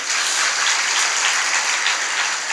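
An audience claps loudly and continuously at a religious gathering, a dense, even wash of applause close by with no voices over it.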